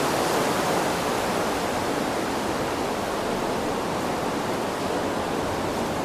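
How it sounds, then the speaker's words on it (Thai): The Aare river rushes through the narrow rock walls of the Aareschlucht gorge in Switzerland, a steady, dense roar of water heard alone without pause. "แล้วก็มีแม่น้ำอยู่ข้างล่าง"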